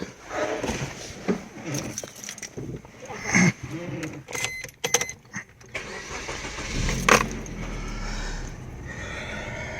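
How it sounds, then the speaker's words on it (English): A used car in good condition, with intact upholstery, is started: the engine cranks and catches, then settles into a low idle. Scattered clunks and handling noises come before it, close and fairly loud. "We're going to start the vehicle now for you."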